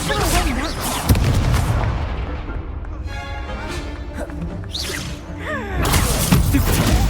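Confringo fire spells explode in the Hogwarts Legacy video game: booming blasts and shattering crashes with whooshes over continuous game music and effects, loud and dense.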